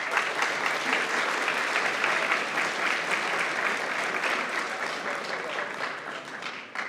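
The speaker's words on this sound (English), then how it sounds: "So can we have a round of applause for these guys?" Steady, full applause from the audience at a hackathon closing ceremony, a continuous wash of clapping that holds for several seconds and softens slightly at the end.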